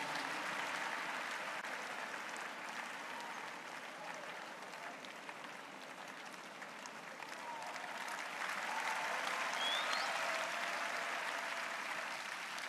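Sustained applause from a large church congregation during a worship service, a dense, steady wash of clapping that swells slightly toward the end, heard from a distance with no talking over it.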